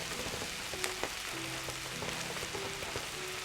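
Curry leaves dropped into hot oil alongside onions, frying with a dense, steady sizzle and crackle, a few sharp pops and faint stirring clinks mixed in.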